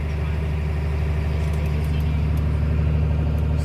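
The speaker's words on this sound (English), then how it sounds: "I'm outloading the trucks now." Heavy trucks idle at a manure pit on a farm while being loaded with liquid manure, a steady deep diesel rumble filling the whole clip at close range with no break.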